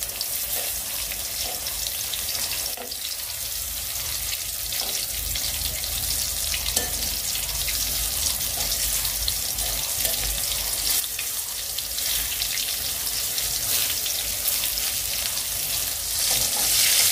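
Sliced pointed gourd (potol) fries in oil in a pan, a loud continuous sizzle that runs throughout with occasional stirring clatter and faint watery splashes.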